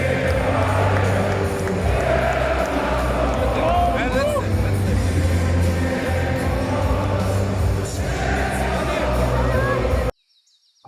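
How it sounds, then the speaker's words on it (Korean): Bayern Munich football fans in a stadium crowd sing together after a title-losing defeat, a loud sustained chant with babble and scattered shouts, fading out abruptly near the end. "우승에 실패했지만 민헨은 영원한 챔피언이란 노래였습니다."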